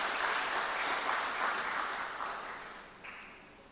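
Applause from a church concert audience for a piano and organ recital, a steady wash of clapping that gradually thins and fades toward the end.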